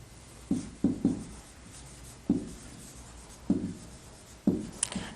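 Marker or chalk strokes on a classroom board during a tense lesson, heard as a series of short scratchy strokes in irregular bursts over quiet room tone.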